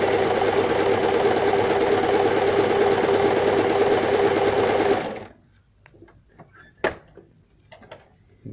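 An Elna Simple 113 sewing machine stitching a triple zigzag runs with a steady loud whir for about five seconds, then stops, leaving a few faint clicks and handling knocks.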